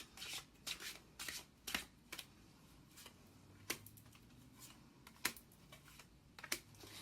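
Tarot cards are shuffled by hand in a series of soft, irregular riffles and papery taps, quiet and close, with no voices over them.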